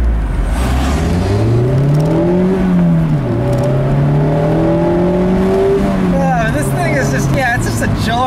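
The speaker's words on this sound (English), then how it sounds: "It's a joy to just ring through the gears." A 2018 Mazda MX-5 Miata Club with a manual gearbox revs through the gears, engine tone climbing and dropping with each shift under steady road noise, close and prominent.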